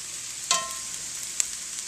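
Potatoes dropped into a pan of frying onions for home fries, giving a steady close sizzle with a brief clatter at the start and a small tap later.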